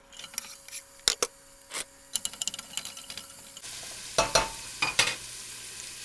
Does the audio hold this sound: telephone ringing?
no